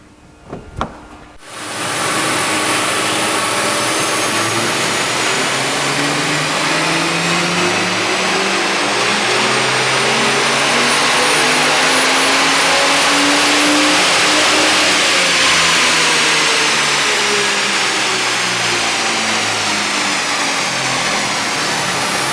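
An FPV FG F6 engine with a Stage 4 kit revs up hard on a dyno and holds at high, steady roaring power, pitch climbing then easing, loud and close with a whining drivetrain.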